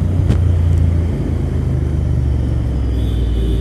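Royal Enfield motorcycle fitted with alloy wheels rolls by on the road, a steady low engine rumble that holds at an even, fairly loud level throughout with no voices.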